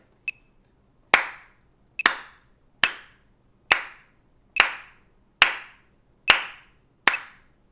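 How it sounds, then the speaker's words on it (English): Sharp hand claps keep a steady beat, about one per second, with each clap doubled into a near-simultaneous flam that practises timing against a metronome, heard close with clear decays and no talk. "I'm going to show you one more time, and you should hear the flam."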